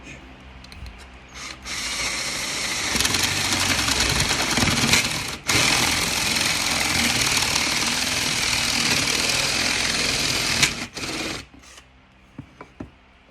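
A power drill bores through a slightly crowned wooden lamp piece set over a backing block on a workbench, a loud rattling whir that spins up, runs steadily for several seconds with a brief dip, then stops, followed by small clicks.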